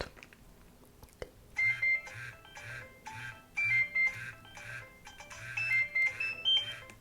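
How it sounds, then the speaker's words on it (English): A retro Nokia mobile phone sounds its alarm clock alert, a repeating pattern of electronic beeping bursts in regular pulses, close and moderately loud over a quiet background. "Another clock alert."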